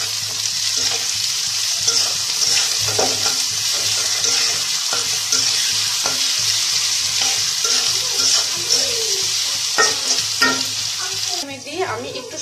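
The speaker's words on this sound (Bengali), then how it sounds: "দেখুন মাংসটা মোটামুটি ভাজা ভাজা হয়ে গেছে, আমি আর একটু ভাজা ভাজা করবো।" Pigeon meat fries with onions in a pan, giving a loud, continuous sizzle. Frequent scraping and clinking stir strokes run through it, and they grow busier toward the end. No one speaks.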